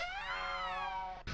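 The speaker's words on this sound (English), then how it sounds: "alert Graham to a mangy cat chasing a terrified rat" A mangy cat in the King's Quest V video game gives a single loud, drawn-out meow with a bending pitch, then the sound cuts off abruptly.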